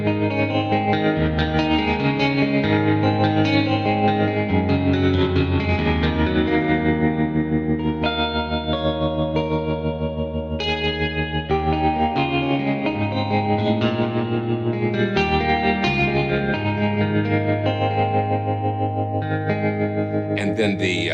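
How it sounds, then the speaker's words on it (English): A violin virtual-instrument patch with a classic tremolo effect plays sustained, layered notes and shifting chords, steady and fairly loud throughout, with gentle swells and no gaps. "It's just got that classic tremolo sound."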